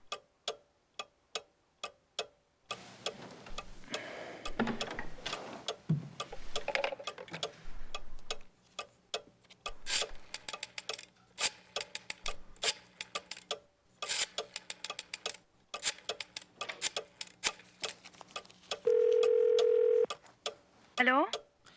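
Telephone dialing tones and a ring sound in the Gabriel Knight 2 adventure game, set among steady ticking and other game sounds, with a brief tone near the end.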